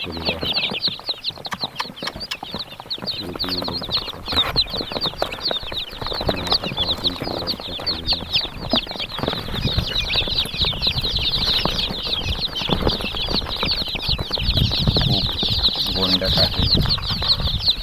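Dense chorus of one-day-old Kadaknath and desi chicken chicks on a farm in Deoli, Chalisgaon, a constant shrill peeping from many chicks close by, with someone talking over it.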